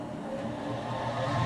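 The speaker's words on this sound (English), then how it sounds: "Go just a little faster on the lathe." Wood lathe spinning up while turning a walnut four-layer bowl, a brief rising motor whine growing slightly louder, with no talking.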